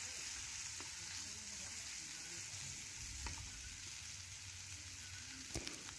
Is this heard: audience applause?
no